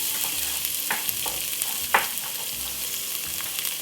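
White onion and garlic sauté in oil in a pot for curry goat, a steady close frying hiss broken by a few sharp scraping stirs of the spoon, with no talking.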